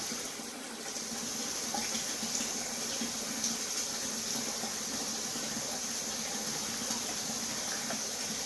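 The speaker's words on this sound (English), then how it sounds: "I gotta water that pot before everything gets hard on it" Tap water runs steadily into a cooking pot in a home kitchen during preparation of shepherd's pie. It makes a continuous close, even hiss and splash for several seconds with no talking.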